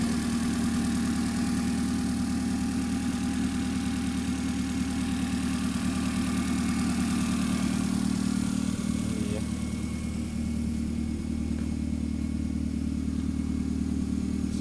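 A 2005 Kia Picanto's engine idles on a cold morning, a steady, close mechanical hum and drone that holds evenly for about fifteen seconds with only slight changes in tone.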